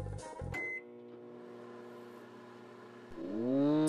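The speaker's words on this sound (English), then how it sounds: "It's a microwave. There's your microwave." A microwave oven runs with a steady low electrical hum and layered tones in an SMG4 animated scene, preceded by short beeps or clicks at the start and followed by a rising whir near the end.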